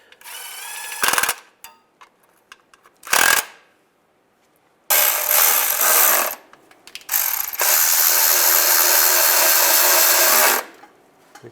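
Ratchet driving bolts during a timing chain replacement on a 2007-2013 Chevy Silverado, heard as several short bursts of rapid clicking, then two longer stretches of steady ratcheting up close, with no talk.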